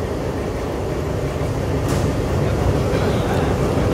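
Bhanga commuter train with locomotive 6513, standing in a Dhaka station before departure: a steady low rumble and hum of the engine under a busy background, continuous and moderately loud, with voices of people nearby.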